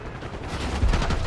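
Dense gunfire in Call of Duty: Black Ops 6 during a desert combat mission, a continuous crackling barrage of rapid shots with heavier thumps, loud and filling the whole short moment.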